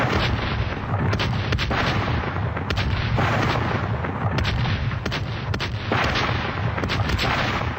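Heavy cannon fire from ironclad warships battling at close range, with dense, continuous booming and crackling blasts layered over one another, loud and sustained throughout.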